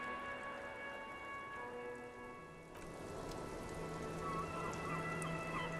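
Steady rain falling in the video game Disco Elysium, a continuous even patter with a few sharper drops, holding at a constant level with no voices.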